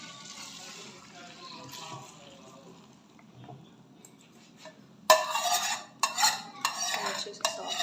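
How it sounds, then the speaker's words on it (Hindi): A spoon scrapes and stirs gajar halwa with melted ghee and dry milk paste in a pan. It starts as a soft, faint stir, then turns louder and busier with rough scraping strokes at close range. "चलिए इसको हल्का सा स्टर करते रहेंगे साथ साथ"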